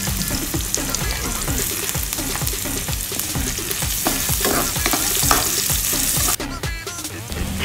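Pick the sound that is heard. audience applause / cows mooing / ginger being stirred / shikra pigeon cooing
ginger being stirred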